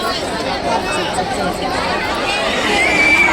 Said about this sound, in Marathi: इथे खूप गर्दी झालेली आहे